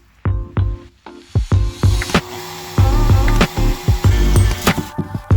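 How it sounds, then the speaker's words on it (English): A hole is drilled through wood for a bilge pump pull switch, close and loud, in short bursts of grinding and chatter separated by brief pauses. "now let's drill the hole."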